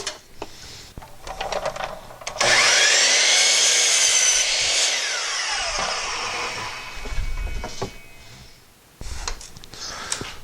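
A power saw cuts wood pieces to length against a stop block for the sides of a built-in spice rack, a loud whining cut lasting several seconds between quieter workshop clatter and a second short burst.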